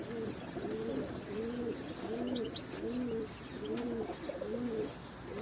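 Pigeons coo in a steady repeating rhythm, soft throaty calls about once a second, with faint chirps and background noise around them.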